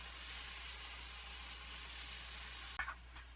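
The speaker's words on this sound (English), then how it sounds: "if these are semi-frozen or wet, just be careful putting in with the oil splatter" Shrimp fry in hot oil in a skillet for shrimp tacos, giving off a steady, close hissing sizzle that ends in a sudden clatter and a few brief splatters near the end.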